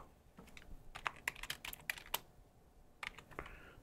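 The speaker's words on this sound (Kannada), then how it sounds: "2ಕ್ಕೂ ಟೈಪ್ ಮಾಡೋಣ ಟೆಕ್ ಇನ್ ಕನ್ನಡ ಅಂತ." Fingers type on a computer keyboard connected to a TV-based JioPC, tapping out short bursts of quiet, close keystrokes with pauses between them.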